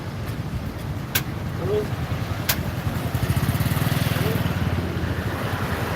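A Mitsubishi Pajero passes on a busy road, its engine rumbling closer then pulsing steadily as it goes by, with traffic noise and a couple of sharp clicks around it.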